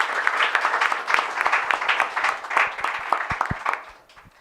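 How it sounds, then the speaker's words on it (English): Conference attendees at SA AIDS 2025 give the panelists a round of applause, dense clapping from many hands that thins into a few scattered final claps before fading out. "can you give a big round of applause to"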